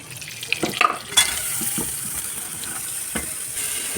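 Sliced onions fry in melted unsalted butter in a pan for paneer mutter masala, a moderate steady sizzle with a few clinks and stirring knocks near the start.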